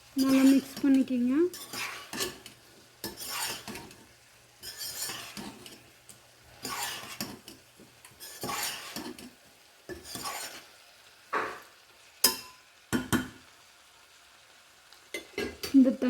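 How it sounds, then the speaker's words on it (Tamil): Spices are stirred into beetroot stem sambar in a pan with a utensil, giving intermittent scraping and clinking bursts separated by short pauses, with a faint sizzle and brief voice fragments. "நல்லா மிக்ஸ் பண்ணிக்கிங்க."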